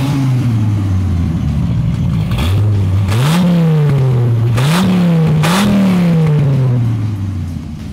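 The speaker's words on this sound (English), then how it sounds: "take a listen to that exhaust" Dodge V10 engine exhaust, five cylinders per bank, running slightly rich, revved several times in a row with rising and falling roars close to the microphone, then settling back toward idle, with no talk.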